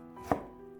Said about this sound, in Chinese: 再将西红柿切成薄片